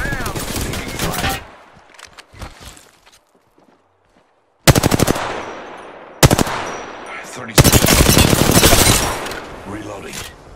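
Rapid automatic gunfire from the shooter game Apex Legends rips out in three loud close bursts after a quieter stretch, the last burst sustained and heavy.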